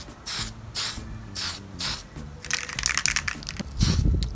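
Short hissing bursts of an aerosol spray paint can, several quick test sprays followed by a longer, rougher spray, close to the microphone.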